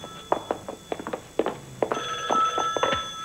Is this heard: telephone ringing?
yes